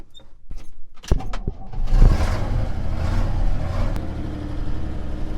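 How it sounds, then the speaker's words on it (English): A few mechanical clicks and clunks, then an old truck's engine turns over and settles into a steady low rumble, idling close by while warming up. "this truck is warming up a little bit and giving it a chance to get started"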